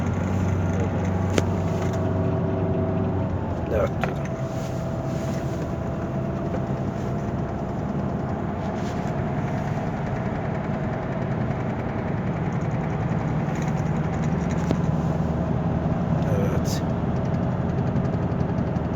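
A car drives along the winding Sakar mountain pass road between Marmaris and Muğla, a steady engine and road rumble running throughout with a brief clunk early on, while people talk inside the car.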